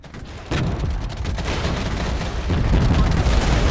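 Heavy artillery fire in the Regiments strategy game sounds as dense, continuous booming and crackling barrages, loud and close, growing heavier after a sudden onset.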